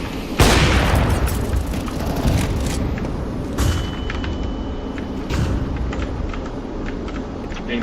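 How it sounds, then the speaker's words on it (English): A flashbang grenade goes off in Counter-Strike 2 with a sharp, loud burst followed by a ringing tone and a rumbling game backdrop, with a second softer thump partway through. "Throwing flashbang."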